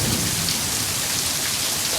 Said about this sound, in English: pouring down rain and thunderstorming.